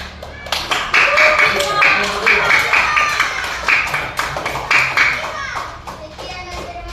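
Children clapping together in a classroom to applaud a group, a dense burst of quick claps that swells then tapers, mixed with excited kids' voices.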